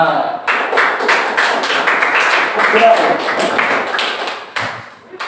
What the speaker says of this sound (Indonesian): tepuk tangan untuk Musa.